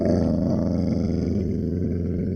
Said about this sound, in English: I heard this growl, and it actually sounded kind of familiar.